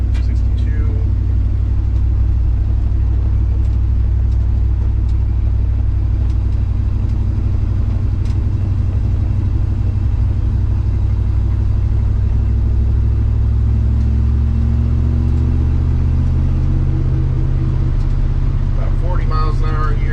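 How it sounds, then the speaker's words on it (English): Low, steady road rumble and drone fill the cabin of a Dodge D150 pickup cruising at about 30 mph with windows up, loud and continuous, with a person talking over it. "here we go, cruising around 30 miles an hour. Windows are up"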